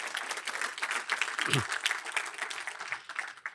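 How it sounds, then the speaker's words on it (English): An audience claps at a business leadership event, a steady, dense round of applause with a brief low thump partway through and no talk over it. "And a big round of applause because he's really been inspirational."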